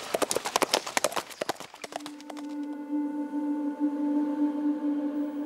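A small Norwegian horse's hooves clip-clop on a mountain path in quick, sharp, close strikes for about two seconds, then give way to a sustained tonal drone.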